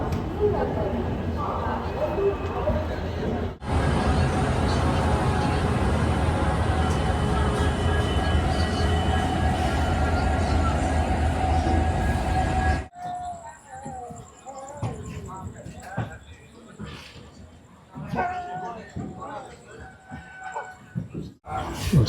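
The Puri Superfast Express rumbles loudly and steadily as it runs out of Howrah, then gives way to quieter, uneven rattling and clatter with a voice talking over it.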